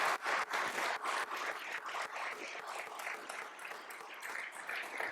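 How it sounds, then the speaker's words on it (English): A room full of guests applauds at a university public service award ceremony, sustained even clapping that starts strong and settles into a slightly softer, steady patter. "We can give him a round of applause, please."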